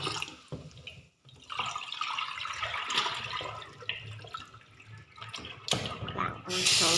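Tap water running steadily into a sink while seafood is washed, a continuous splashing rush with shifting intensity, heard under faint background voices.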